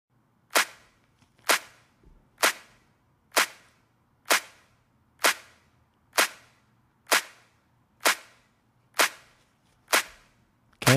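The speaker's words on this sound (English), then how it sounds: "So here's the first" A dry, clap-like snare drum sample with no processing, struck about once a second for a dozen sharp, evenly spaced hits, crisp and upfront with nothing else around it.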